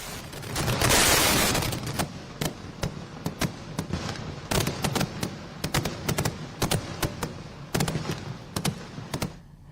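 A fireworks display in Thrissur: a loud, dense opening burst followed by rapid, irregular volleys of sharp cracks and pops, some near-simultaneous, continuing throughout with no voices.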